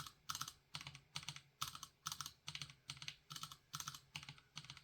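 Typing on a mechanical keyboard with Cherry MX switches, a steady run of crisp, close clacky keystroke bursts in an even rhythm, alone and clear.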